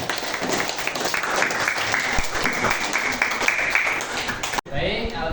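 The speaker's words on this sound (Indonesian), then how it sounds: "Tepuk tangan untuk kelompok 1." Students in a madrasah tsanawiyah Qur'an and Hadith classroom clap for a group in a steady, moderately loud burst lasting several seconds, cut off abruptly near the end with a brief quieter tail.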